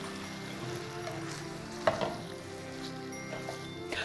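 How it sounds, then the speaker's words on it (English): A casserole mixture is stirred in a pan on the stove. A soft sizzle runs throughout with scraping stirs and one sharp utensil clank near the middle. It sounds close, with no talk. "So I'm just gonna stir this up."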